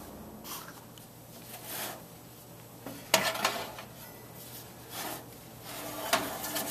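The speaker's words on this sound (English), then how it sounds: "popping the pan back into the toaster oven" A metal pan clatters and scrapes as it is slid onto the rack of a toaster oven, giving several sharp metallic knocks and rattles at close range, with no speech.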